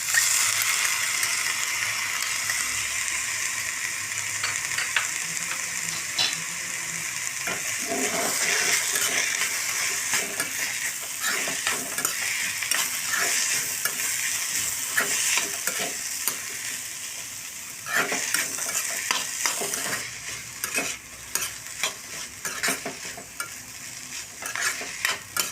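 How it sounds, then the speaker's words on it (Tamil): Green chilies and tomato sauté in a pan for egg podimas, a dense continuous sizzle with frequent stirring scrapes that runs the whole time and turns busier toward the end. "நல்லா வதங்கிருச்சுங்க."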